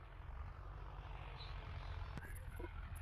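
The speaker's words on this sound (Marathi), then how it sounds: "पाहू शकता हे लाईव्ह रोटर चालू आहे" A low, steady engine drone of a rotavator working a field runs throughout, with faint voices in the background.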